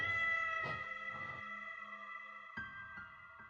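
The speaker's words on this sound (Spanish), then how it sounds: "de nuevo escuchó aquel maullido" A cat meows twice in quick succession, then pauses and gives a couple more short meows, fairly close, over a steady tonal hum.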